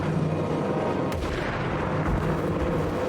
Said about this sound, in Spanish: Ah, que te pegan tiros.